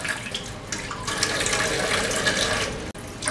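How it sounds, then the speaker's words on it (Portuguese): Tap water runs steadily from a faucet into a basin while collard green leaves are washed one by one, a continuous close splashing stream with brief shifts as leaves pass under it. "vou ter que abrir a torneira e lavar folha por folha"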